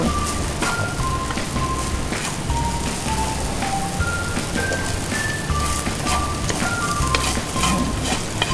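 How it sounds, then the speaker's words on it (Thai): A chef stir-fries shrimp fried rice in a wok at a bar restaurant in Phuket, with steady loud sizzling and constant scraping and stirring through a busy background; high tonal beeps sound intermittently. "ตอนนี้เชฟผัดให้เข้ากันอยู่นะคะ"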